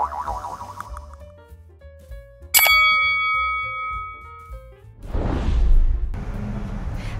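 A bright bell-like ding rings out clearly over background music and decays slowly, followed by a burst of noisy whooshing.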